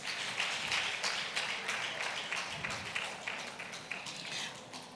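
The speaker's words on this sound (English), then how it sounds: "Please give her a round of applause." An audience at a conference applauds a panel moderator, a moderate burst of clapping that stays fairly even and slowly tapers over a few seconds.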